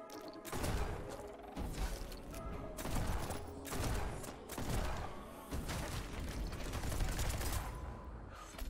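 Shotgun blasts fire repeatedly in the game Neon White, about five heavy, punchy shots spaced roughly a second apart, each trailing a rattling mechanical clatter over steady background music.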